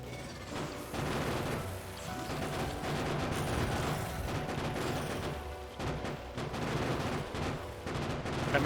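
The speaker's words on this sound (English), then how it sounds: "Oh, just look how good these turrets are. They don't stand a chance against the turrets." Gun turrets in the factory-building game Factorio fire rapid, sustained bursts of automatic gunfire with crackling impacts, continuous and dense across the whole stretch with no voices.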